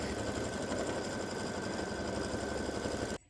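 An embroidery machine runs at an even, constant hum and buzz as it stitches the background quilting fill on a Thanksgiving turkey block, then stops abruptly at the end.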